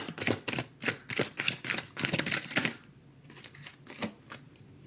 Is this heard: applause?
no